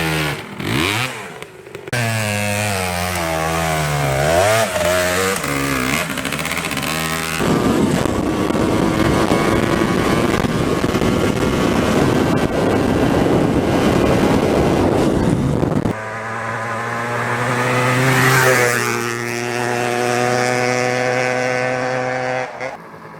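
Rieju MTX 125 motorcycle heard from outside, its two-stroke engine revving loudly with rising and falling pitch as it passes and accelerates, a rough steady roar through the middle section, then revving again near the end.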